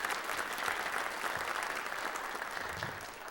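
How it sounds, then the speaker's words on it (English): An audience in a village theater applauds sponsors at a township address, a steady wash of clapping that holds throughout and eases off slightly toward the end. "a round of applause for all of our sponsors this evening"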